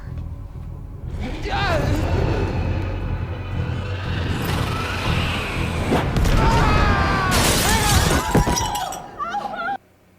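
Glass shatters and clinks in a TV show scene, a burst of breaking glass and scattered tinkling under overlapping dialogue and music, fairly loud and busy.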